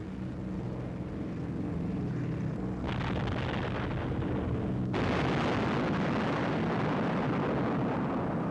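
Bombs from a WWII B-17 bomber strike their target in a dense, continuous roar of distant explosions layered over droning aircraft engines, with the rumble swelling at a couple of points.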